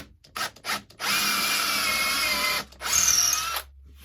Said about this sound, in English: And drill a decent hole straight in.